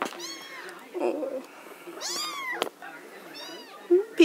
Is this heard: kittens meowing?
yes